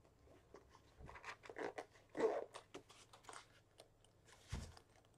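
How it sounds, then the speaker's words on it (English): A zipper is pulled shut on an overstuffed makeup bag, a close series of short rasping bursts and rustles that pause briefly before one last tug. "Let's see if I can zip it up now."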